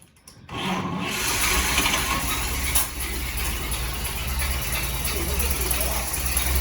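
A flathead engine turns over and catches, then runs with a steady, loud, rough exhaust rumble close by.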